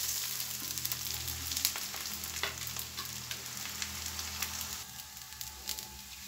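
Broken rice added to fried onions in a pan, a soft continuous sizzle with occasional scraping stirs, close but quiet.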